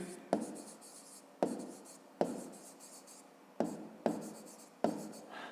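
A pen scratches on notebook paper in six separate strokes, each starting sharply and fading, quiet and close with no talking.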